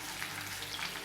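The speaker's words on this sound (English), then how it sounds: "I'm just gonna allow this to saute until translucent" Tomato, onion, sweet pepper, hot pepper and garlic sauté in a pan with a soft, steady, close sizzle and faint crackle, low and unbroken without talk.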